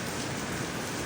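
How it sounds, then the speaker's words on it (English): Steady rain falling outdoors at a spot in Turkey during a thunderstorm, a dense continuous hiss of drops on surfaces, close and even throughout with no speech. "I have to walk through a patch of rain."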